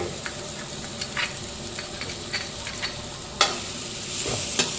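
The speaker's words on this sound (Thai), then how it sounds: "ผัดคลุกเคล้าพริกแกงให้หอมๆเลย" Curry paste being stir-fried in a hot pan, a steady low sizzle with repeated clinks and scrapes of the spatula against the metal, close up and alone without voices.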